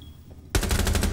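Rapid automatic gunfire bursts in suddenly after a quiet moment in a Rainbow Six Siege match, a loud, evenly pulsing stream of close shots that continues to the end.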